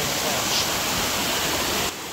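A monsoon stream runs down the trail on the trek up to Visapur Fort. The flowing water makes a loud, steady, close rushing roar that drops off abruptly near the end.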